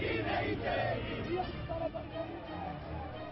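A political rally crowd in Kashi: a dense, muffled roar of many voices with scattered shouts, steady and moderately distant, with speech mixed in.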